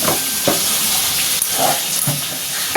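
Chicken curry frying in a pan on the stove gives a steady, loud sizzle with bursts of hiss and occasional stirring scrapes, with no talking.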